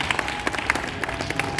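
A church audience at a Christmas service claps hands together, a steady patter of many claps close and moderately loud, with no speech.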